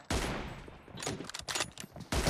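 Rapid gunfire from an M24 challenge in a team deathmatch shooter game, loud, dense bursts of shots that start sharply, ease into scattered cracks, then return heavy at the end.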